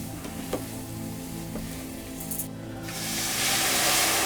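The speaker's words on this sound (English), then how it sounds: "Just toasting off the rice a bit first" Arborio rice toasting in a hot pan gives a steady, close sizzle with faint stirring scrapes, the hiss swelling louder and brighter toward the end, with no voices.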